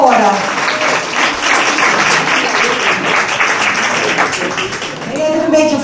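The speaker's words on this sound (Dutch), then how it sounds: "Mag ik een applaus?" An audience applauds at an open-stage talent evening, a loud sustained round of clapping lasting several seconds, with a voice briefly heard near the end.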